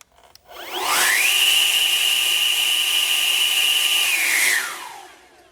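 An EGO cordless leaf blower runs during an airflow test: it spools up quickly to a loud, steady high whine with rushing air, holds for about three seconds, then winds down and fades out.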